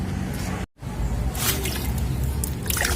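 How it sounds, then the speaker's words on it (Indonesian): Water is splashed and poured over a car's engine block while it is being cleaned, a close wet sloshing with a brief dropout, then hissing spray and dripping. "Ini siram pakai air."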